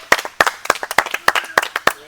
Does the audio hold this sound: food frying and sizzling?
no